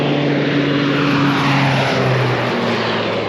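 Airplane passing low overhead above a rice farm, a loud, steady propeller-engine drone with a sustained hum that shifts slightly in pitch as it goes by.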